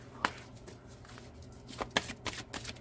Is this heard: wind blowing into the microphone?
no